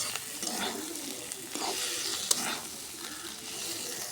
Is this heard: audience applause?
no